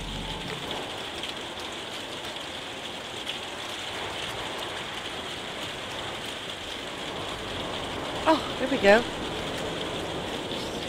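Steady rain pours through a storm in the video game No Man's Sky, a continuous hiss throughout with a few brief louder knocks near the end while someone talks over it.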